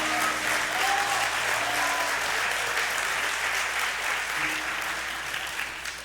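A church congregation applauds in sustained, dense clapping that fades slightly toward the end, with voices calling out and cheering underneath.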